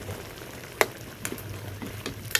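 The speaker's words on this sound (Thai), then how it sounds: "ผัดเครื่องแกงปลาดุก" Catfish is stir-fried with southern Thai curry paste in a pan, making a close, soft sizzle broken by a few sharp scraping clicks from the stirring utensil.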